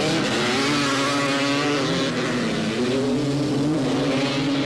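Yamaha three-wheeler motorcycles at a 1985 AMA National race in Miami: a loud, steady engine drone holds throughout, wavering slightly in pitch as the machines run, with no talk.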